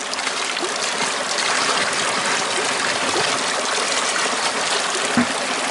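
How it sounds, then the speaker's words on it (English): Water draining off a gold mining sluice box, a steady close trickling and gushing flow with splashy texture, continuous and fairly loud with no talk. "we're going to drain the water off."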